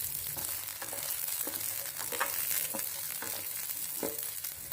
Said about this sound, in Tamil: பூண்டு வெங்காயம் இது ரெண்டுமே எண்ணெயில் நல்லா வதக்கி விட்டுக்கிறேன்